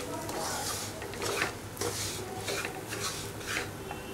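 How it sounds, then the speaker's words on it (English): Semolina (sooji) frying in ghee while being stirred, a continuous soft sizzle with repeated scraping strokes of a spoon against the pan, close and steady. "Now add this semolina, that is Sooji, and fry this till it slightly changes the color."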